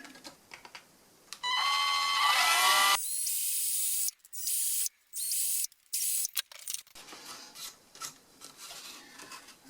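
A small drill with a 1.5 mm bit whirs in short bursts, drilling servo screw holes in a V-tail model aircraft, a sustained high whine broken by brief pauses, close by with no talking.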